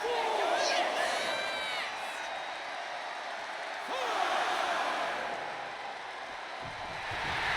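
Crowd cheering and whooping in the WWE 2K25 wrestling video game, a steady arena roar rising and falling over several seconds, with commentators talking over it.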